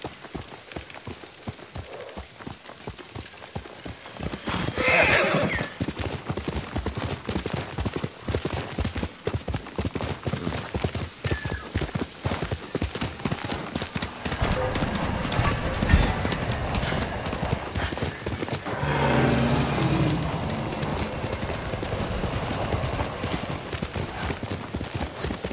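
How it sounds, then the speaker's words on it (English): Horse galloping in the video game Ghost of Tsushima, a steady rapid clatter of hooves running throughout with rain-like hiss and louder bursts of movement, close and prominent. "Good horse, Kage."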